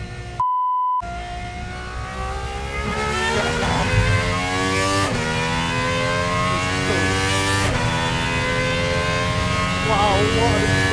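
A Gordon Murray GMA T.50s V12 pulls hard on track, its high engine note climbing through rising revs with sharp upshifts, loud and close from onboard over a steady road roar.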